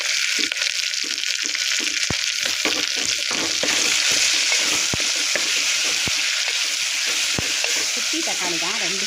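Onion and tomato with ginger-garlic paste sautéing in a pan for coconut milk biryani: a loud, steady frying hiss with repeated sharp scrapes and taps of a spoon stirring, close up, no talk.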